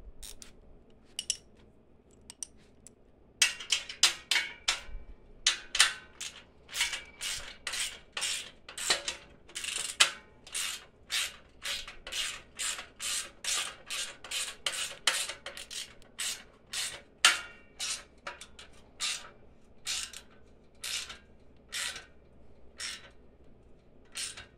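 Bolts being tightened with a ratcheting tool while assembling a Harbor Freight 3-1/2 cubic foot cement mixer: a long run of quick, rhythmic metallic clicking strokes, close and fairly quiet, with brief pauses between sets.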